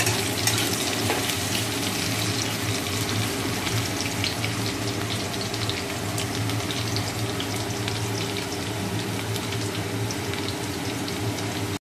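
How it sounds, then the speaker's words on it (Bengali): Potatoes frying in oil, a loud continuous close sizzle that holds steady from start to end with no talk. "আলুটা ভেজে নিচ্ছি"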